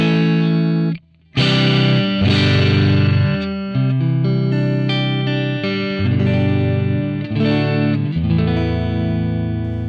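Electric guitar played through a Fractal FM3 amp modeler with input drive set to 4, loud and sustained chords with a brief gap near the start, then continuous strummed and picked phrases with a slight crunchy edge.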